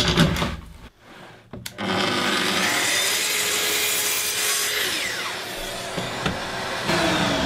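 A track saw cuts through wood trim, a loud sustained whine that rises after a brief pause and runs steadily for several seconds with small bumps, no voices.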